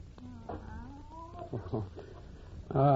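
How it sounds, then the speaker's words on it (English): A cat meows several times in a drawn-out, wavering way, indoors on a campus, with a louder final cry at the end amid faint background sounds. "That's just Professor Kimberly's cat."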